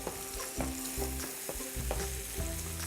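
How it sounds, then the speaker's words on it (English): Sweet Maui onion frying in a pan for fried rice, a steady close sizzle with periodic scraping stirs and clicks of a utensil, no voices. "Cook the onion for another 2 to 3 minutes."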